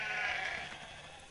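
Sheep bleating in the World of Warcraft: Mists of Pandaria game, one sustained nasal bleat that sounds fairly close and clear, fading slightly toward the end with no talk over it.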